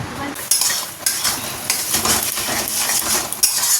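Spices sizzle and are stirred in a pan, with a loud frying hiss broken by repeated metallic scrapes and clinks of a spoon against the pan in short irregular strokes.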